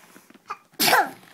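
A single loud, close sneeze bursts out near the end, preceded by a few faint breaths and small sounds, at a family Christmas present opening at home.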